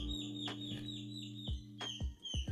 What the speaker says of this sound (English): There are a lot of birds outside today.